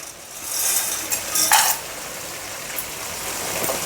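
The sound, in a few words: spices frying and being stirred in oil for chicken biryani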